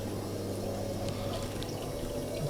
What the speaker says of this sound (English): it's definitely pumping out water